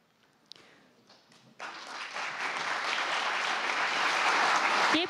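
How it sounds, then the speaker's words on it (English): Applause breaks out from a sizable crowd at a G20 financial innovation seminar in Fukuoka, Japan, welcoming Deputy Prime Minister Aso, swelling quickly into steady, sustained clapping that keeps building. "Let's welcome him with a big round of applause."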